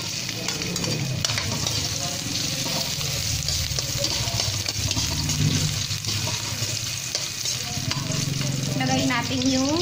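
Ginger sizzles loudly and steadily in hot cooking oil, the first step of an Ilocano coconut-milk crab and shrimp dish, with faint stirring throughout.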